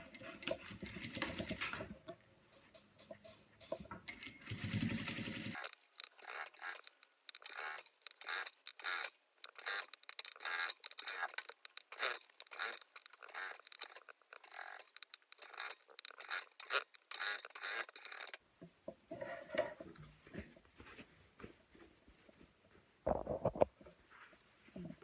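A sewing machine topstitching a fabric face mask, running in a long rapid burst of needle clatter in the middle, with quieter handling and rustling of cloth before and after.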